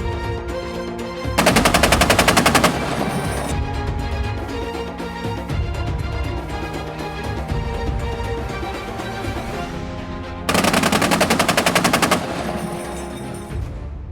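A 30mm wheeled anti-aircraft gun fires during an air-defence test in two loud, sustained rapid bursts separated by a long stretch of rumbling, echoing background, with no voices.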